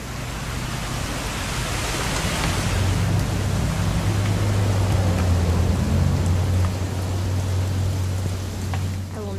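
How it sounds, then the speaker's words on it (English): Steady rain in the video game What Remains of Edith Finch, a dense continuous hiss with a low rumbling undertone, even and enveloping throughout. "It's gonna rain the whole weekend,"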